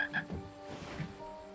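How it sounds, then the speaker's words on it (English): Frogs croaking in the King's Quest adventure game, a few short, close croaks in quick succession over a soft ambient backdrop, with no talking. "Ah, look at the frogs."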